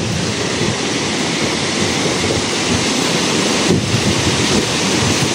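Strong wind roars steadily against a damaged metal roof where the tie ropes have failed, a loud, continuous broadband rush with gusty swells and no voices.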